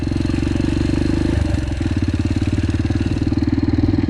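A Yamaha TTR 125 four-stroke trail motorcycle runs close by with a steady, rapid thumping exhaust beat, its pitch shifting slightly partway through, alone without talk.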